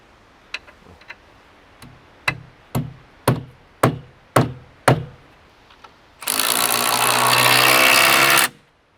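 A lag screw being driven into a wooden base leg during a Harvey Allen Game Getter installation: a run of sharp, evenly spaced impact-driver clacks, then a loud continuous whirring drive lasting about two seconds before it stops.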